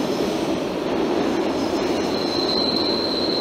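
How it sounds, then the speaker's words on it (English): A Philadelphia Broad Street Line subway train rumbles by underground beneath the street, a loud continuous roar with a thin metallic wheel squeal rising toward the end, no voices. "It's actually the Broad Street line, the subway"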